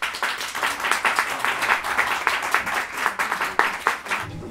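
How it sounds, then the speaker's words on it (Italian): An audience at the Pentatonic venue gives warm applause at a poetry event, clustered claps forming a lively, uneven patter that fades and swells over a few seconds. "che ringraziamo con un caloroso applauso"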